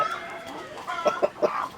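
Ko Shamo rooster and hens clucking close by, a steady run of short bursts with a few sharper calls near the end.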